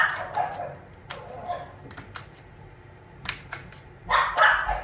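A dog barks repeatedly indoors at moderate distance, several sharp yelping barks in irregular bursts over a quiet background, the last burst loudest.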